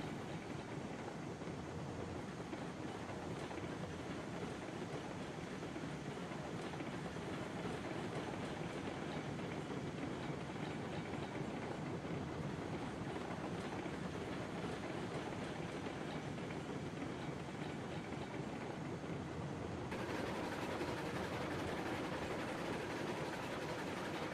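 Steam locomotive running steadily on rails in the train-simulation game Railroads Online, a continuous close rumble and rolling noise that grows slightly fuller toward the end as the engine speeds up, with no talk.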